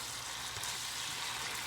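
Ravioli with cherry tomatoes, garlic and onion sizzles steadily in a pan while being stirred, a continuous soft frying hiss with no talk.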